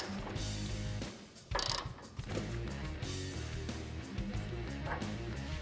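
A ratchet with a 32mm socket clicks in a quick, repeated rhythm while tightening the nut on an adjustable front upper control arm of a Ford F-150. A dog barks intermittently nearby.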